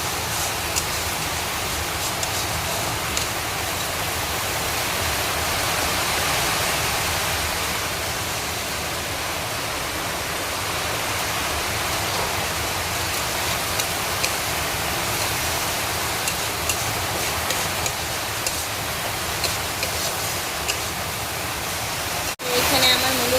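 Heavy rain pouring down during home cooking, a dense, steady hiss that fills the whole stretch with little variation, ending in a sharp knock near the close.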